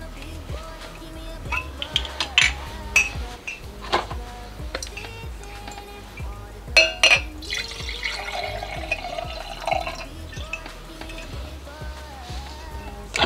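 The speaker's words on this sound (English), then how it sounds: "I'm gonna be doing Stella Rosa tonight, so I'm gonna pour me some drinks." Stella Rosa wine is poured into a glass indoors. Irregular trickles, drips and small splashes come close up, with a few soft glassy knocks between them.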